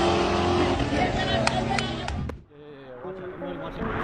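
A Porsche 911 Turbo roars close by during a skid, its engine loud and continuous for over two seconds, then cuts off abruptly before a quieter stretch with a few tonal sounds and the engine building again.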